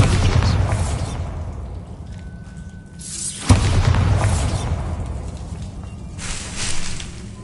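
A Bombarda spell in Hogwarts Legacy detonates with a deep boom midway, set within a continuous low rumble of game ambience and crackling debris that swells and fades around it.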